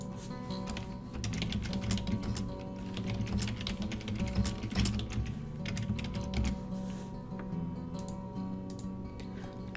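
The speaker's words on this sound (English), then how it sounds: "After you're done typing in your question" Steady, continuous typing on a computer keyboard, a dense patter of key clicks close by, with no talking.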